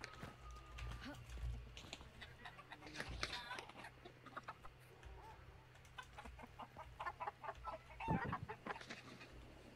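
Chickens cluck repeatedly in a video game, a busy, close scatter of short clucks and squawks over a low steady hum, with occasional louder bursts and faint background voice.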